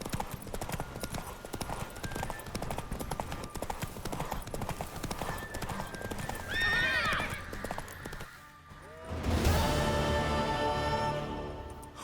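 Horse galloping with rapid rhythmic hoofbeats in The Witcher 3 on PS5, followed by a loud, close whinny that rings out after a brief lull, with game voices and music underneath.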